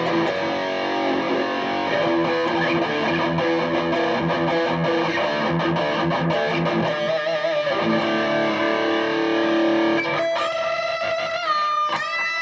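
Charvel signature electric guitar played through heavy distortion, sustained overdriven notes and chords ringing with bends, ending in a burst of bright, rapidly picked high notes, loud and alone without talk.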